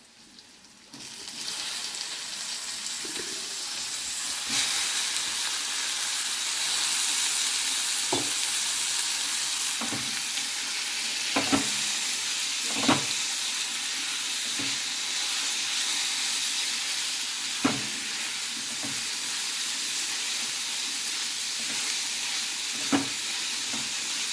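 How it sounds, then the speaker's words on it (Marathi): Potatoes go into a pan of frying garlic for Goan Saraswat prawn bhaji, setting off a sudden, steady sizzle that continues close and loud, broken by scattered spoon clinks and scrapes as the mixture is stirred. "आपण लसूण आणि हे ॲड केल्यानंतर आता हे बटाटे टाकणार आहोत."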